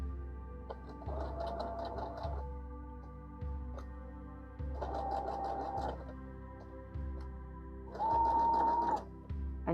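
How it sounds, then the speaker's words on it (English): A sewing machine stitches appliqué fabric slowly in three separate runs, each a steady whirring hum of a couple of seconds with soft pauses between. "And yes, that's really how slow I sew it."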